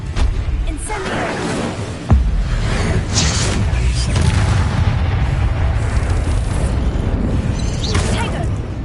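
A fire spell is cast in the Hogwarts Legacy video game, giving a loud, dense roar of blasts and whooshes with a sharp boom near two seconds, continuing throughout under a shouting voice.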